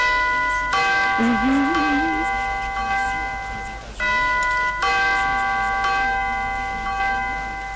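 Bright ding-dong bell chimes ring out in a few struck sequences at the start of a debate show segment, clear and resonant with sustained tones, while a voice talks over them.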